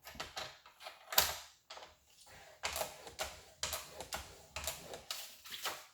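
Paper is creased into a fold for a handmade Harry Potter album, giving a run of close, dry scraping and tapping strokes in short repeated bursts with brief pauses between.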